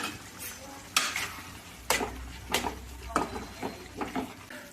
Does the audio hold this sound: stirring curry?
yes